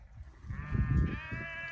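A sheep gives a single drawn-out, wavering bleat outdoors in hilly country, heard at moderate distance over low wind rumble.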